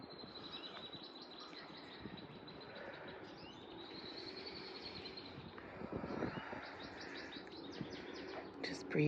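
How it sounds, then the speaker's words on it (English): Birds chirp and trill in short bursts throughout, fairly near, in green grass on a patio after a long winter, over steady outdoor background noise with occasional faint rustling. "So nice to hear birds singing in green grass"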